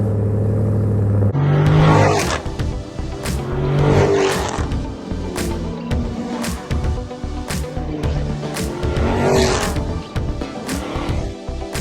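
Mopar cars rumble along a canyon run up Big Cottonwood Canyon, engines passing close one after another with a steady low roar that swells and fades, with occasional sharp bursts over the drone.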